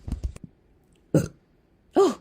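Burps from a streamer: a few short throaty bursts at the start, then two louder, deeper belches spaced about a second apart, close and clear with no talking.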